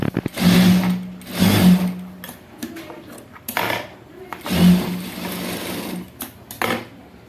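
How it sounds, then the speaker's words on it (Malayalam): Domestic sewing machine stitching the back piece of a cross-cut blouse, running in several loud bursts with short pauses between runs, close up, with no talk. "സ്റ്റിച്ച് ചെയ്യാത്ത ഭാഗം വെച്ചിട്ട് ഇതുപോലെ നല്ല വശവും കൂടെ ചേർത്ത് വെച്ച് സ്റ്റിച്ച് ചെയ്ത് കൊടുക്കാം"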